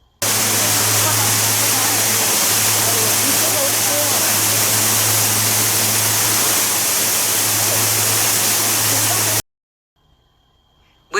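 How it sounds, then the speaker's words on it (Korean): Deep, steady roar of falling water echoes through a dark indoor garden hall at a garden expo in Suncheon Bay, loud and continuous before cutting abruptly to near silence. "어둠 속에서 깊게 울려 퍼지는 물소리는 강렬한 첫인상을 선사합니다."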